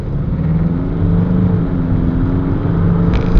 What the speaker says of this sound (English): Going through the gears there now, you know, there's no jolt in between gears